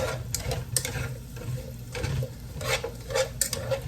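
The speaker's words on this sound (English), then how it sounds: "Just stir it up. You're coating it in that butter and you're coating it in the seasoning." Veggie pasta ingredients stirred in butter and seasoning in a pan, with repeated scraping and clinking strokes of a utensil over a soft sizzle, close and fairly loud, no talking.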